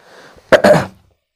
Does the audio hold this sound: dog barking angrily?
no